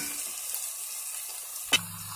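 Onion and green chili fry in hot oil, a steady soft sizzle running throughout with one sharp clack of a utensil near the end.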